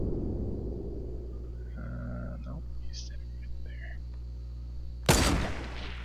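A single sharp gunshot rings out in Fortnite Battle Royale near the end, loud and close after a quiet stretch of game ambience with a low steady hum and some faint tonal effects.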